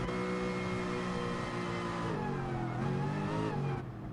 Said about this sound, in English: I'm trying to absolutely redline the car to get rid of as much fuel as possible